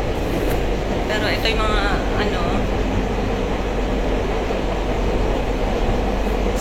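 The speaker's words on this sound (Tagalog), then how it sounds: "So, 6:06 dumating yung tren. Guys, medyo matagal na tong tren, no?" An old RENFE train at Madrid Chamartín station fills the scene with a loud, continuous rumble and rattle, while a person talks over the noise.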